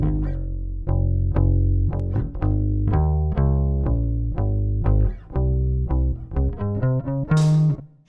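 A dry music mix with all processing switched off: bass and plucked, tuneful notes played at a steady, moderate pace for several bars. The sound is loud and close, with no voices.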